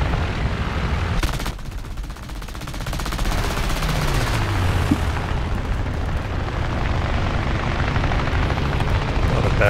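Machine-gun fire during an arcade air battle in War Thunder flown in an I-15bis biplane, loud sustained bursts over a steady propeller engine drone, with a brief dip in intensity partway through.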